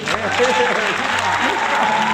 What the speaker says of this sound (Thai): ทีมงานตัดต่อผมทำเสียงซาวปรบมือ